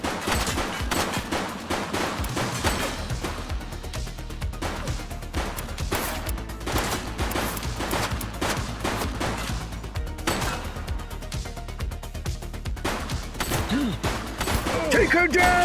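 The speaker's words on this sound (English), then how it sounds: "She's shooting!" Gunfire from a shooting suspect in The Precinct, repeated sharp shots and bursts spread across a tense stretch, loud and close, with voices talking in between.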